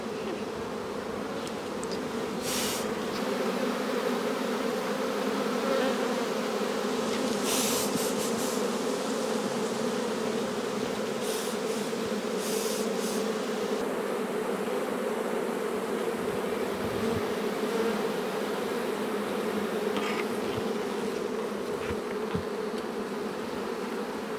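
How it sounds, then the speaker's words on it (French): A dense, crowded colony of honeybees in an open hive box in an April apiary, producing a loud, steady, continuous buzz close by with no talk. "Vous voyez là, il y a plus d'abeilles que de cadres."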